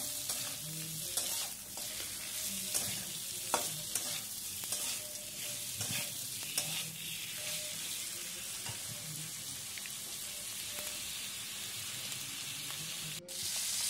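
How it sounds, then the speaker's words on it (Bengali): Chicken feet sizzle and fry in a pan over a high flame while a spatula stirs them, giving a steady hiss with repeated scraping strokes and occasional clanks close by. "একদম হাই ফ্লেম করে খুব ভালোভাবে নাড়বো"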